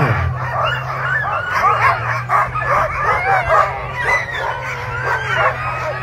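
Sled dogs bark, yip and whimper in an excited, overlapping chorus at the start of the Fur Rondy Open World Championship sled dog race in Alaska, steady and close with a low hum beneath.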